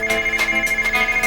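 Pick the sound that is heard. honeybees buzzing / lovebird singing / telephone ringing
telephone ringing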